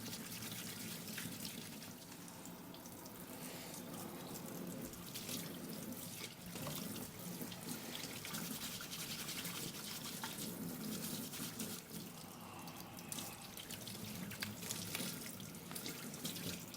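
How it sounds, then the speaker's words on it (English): A kitchen tap runs steadily into a sink while thin-skinned potatoes are scrubbed under the water, a continuous close rushing stream with faint rubbing, no voices. "These potatoes are thin-skinned, so I'm just going to scrub them rather than peel them."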